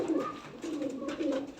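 Pigeons coo softly in a repeated, low rolling rhythm, with several calls overlapping close by and some light background noise.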